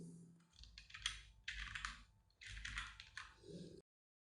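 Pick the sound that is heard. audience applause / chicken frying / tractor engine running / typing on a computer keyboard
typing on a computer keyboard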